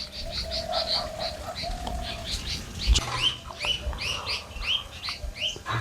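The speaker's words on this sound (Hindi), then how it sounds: "चिड़ियों की आवाज़ें भी आ रही होंगी आप लोगों को" Birds chirp near open village fields in repeated short, bright bursts over a quiet outdoor background, with a low thud partway through and no talk.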